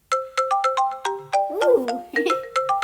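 Apple iPhone Sencha ringtone: a bright melodic pattern of plucked, bell-like notes in quick rhythmic phrases, clear and alone with no talk over it.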